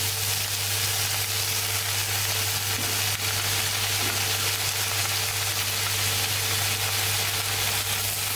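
Spinach leaves sautéing in a pan with onion and garlic give a steady, even sizzle that fills the whole stretch without a break, with no voices over it.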